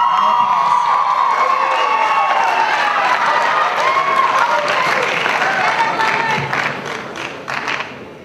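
An audience at a high school poetry slam applauds and cheers loudly and steadily, with shouts and whoops rising over the dense clapping before it begins to thin near the end.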